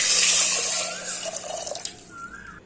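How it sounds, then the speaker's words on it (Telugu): Water pours and splashes into a pot of frying chicken biryani spices, loud at first and then easing to a trickle, with a brief high squeak near the end. "వాటర్ యాడ్ చేసుకోవాలి"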